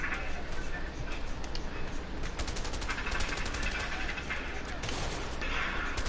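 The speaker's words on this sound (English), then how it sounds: "Oh, shotgun to the face." Shotgun fire in the video game A Way Out, rapid bursts of gunfire crackling over a dense, noisy game soundscape at moderate level, with no clear pauses between shots.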